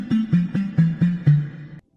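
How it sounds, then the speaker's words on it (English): A synth pluck with a rounded, full low body plays six quick, evenly spaced notes that step slightly downward, then cut off abruptly, close and without other sounds. "Grab a nice pluck with a little body to it,"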